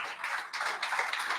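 A church congregation claps in a steady wash of many hands close by. The sound is moderately loud and rises and falls slightly over a brief moment, with no voices over it.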